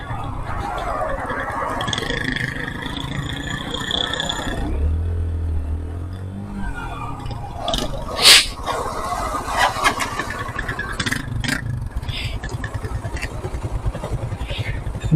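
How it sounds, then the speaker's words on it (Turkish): A Mondial Drift 125 L motorcycle engine idles and revs outdoors at night, with a low rumble that swells in bursts, a sharp rise near the middle, and talking over parts of it. "sesi kendine gelmiş motorun ya"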